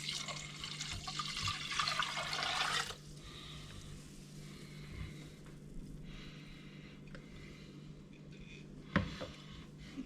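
Wine for Swedish mulled glögg is poured from a large bottle into a measuring container: a steady splashing pour lasting about three seconds, then a quiet room with a faint clink near the end.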